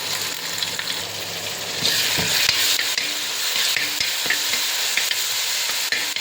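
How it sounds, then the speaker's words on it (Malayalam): Ginger and onion sauté in hot oil for a fish head curry, a loud continuous sizzle broken by the regular scrape and clack of a spoon stirring the pan, with no voices. "ഇഞ്ചി ഇതെല്ലാം ചേർത്ത് നമുക്ക് നന്നായിട്ടൊന്ന് വഴറ്റുന്നത് വരെ നോക്കിയിരിക്കാം"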